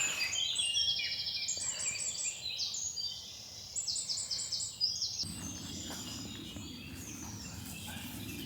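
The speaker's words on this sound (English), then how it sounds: "Birds are in full flow" Dawn birdsong along Offa's Dyke Path, several birds trilling and chirping in overlapping bright phrases, fairly near and steady, with faint insect-like background hiss and a low rustle joining in the second half.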